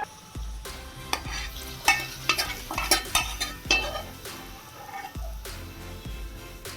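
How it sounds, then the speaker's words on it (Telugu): Hot tempering with curry leaves is stirred into grated raw mango chutney, with a run of wet squelching stirs and spoon scrapes against the bowl, plus a light sizzle. "మనం ఇప్పుడు దాన్ని తీసి చక్కగా దీంట్లో అయితే కలిపేసుకుందాము పచ్చడిలో."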